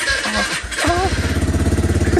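A Yamaha R15 v3 motorcycle with stock exhaust cranks briefly, then fires up and settles into a close, rhythmic, throbbing idle.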